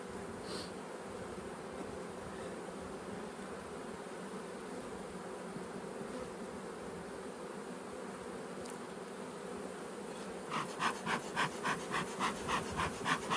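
Honey bees buzzing at an open beehive during a hive check, a steady near hum filling the air, with a louder pulsing burst of buzzing near the end.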